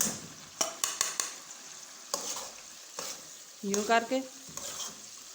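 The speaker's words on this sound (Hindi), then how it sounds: "इस तरह से हम प्याज को अच्छी तरह से हम निकाल लेंगे" Fried onions scooped out of hot oil with a small strainer in a home kitchen, giving sharp clinks and scrapes against the pot and a burst of sizzling, with brief speech over it.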